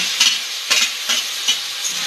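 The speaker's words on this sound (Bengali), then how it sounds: "ভালো করে নেড়ে এইভাবে" Roasted eggplant mixed with fried onion, green chilli and tomato is stirred in a pan, loud sizzling with four or five rhythmic scraping strokes of a spatula, close and without voices.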